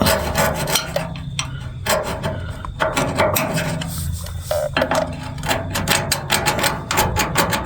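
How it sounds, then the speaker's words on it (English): Scraping paint off the light hole of a trailer with a tool, rapid close rasping and scratching strokes in uneven bursts with brief pauses between them. "You find your hole back here and scrape it off a little bit."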